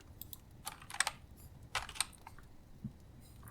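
Someone types on a computer keyboard, a few scattered, crisp key clicks in short bursts, close and quiet, with no talking.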